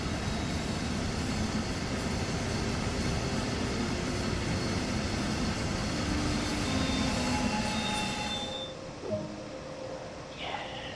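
A DB BR 182 electric locomotive hauling a double-decker train in Train Sim World 2, with a steady loud rolling rumble and faint wheel squeal throughout, easing off near the end.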